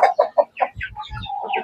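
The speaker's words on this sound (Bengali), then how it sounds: "মুরগি একটা সবচেয়ে রেয়ার যে মুরগি আমি নেওয়ার জন্য আসছি।" A rare breed of chicken clucks up close, starting with four quick, sharp clucks and then giving softer, mixed clucking and low grunts.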